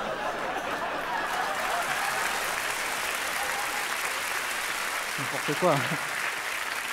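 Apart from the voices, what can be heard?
audience applauding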